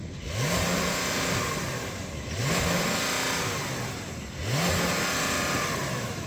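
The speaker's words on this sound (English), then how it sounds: "So I'm going to put this car in sport mode and then I'm going to rev it, but it's got a soft limiter." A Porsche 911 engine revs repeatedly while parked in sport mode, three loud rising blips hitting a soft limiter, each falling back to a steady idle between them, close and without talk.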